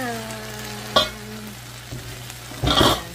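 Egg goes into a hot pan with bitter melon and tofu, bringing a sharp clatter and then a burst of crackling sizzle near the end, over a low background hum.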